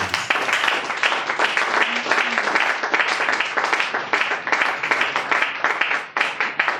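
A church congregation applauds and acclaims together: dense, loud, sustained clapping that pulses steadily throughout, with voices blending into the crowd noise.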